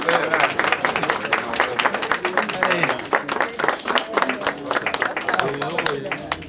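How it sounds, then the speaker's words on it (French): A crowd applauds after a ribbon is cut at the inauguration of the Les Charmes nursing home: dense, steady clapping lasting several seconds, with voices talking over it throughout. "Normalement, on applaudit."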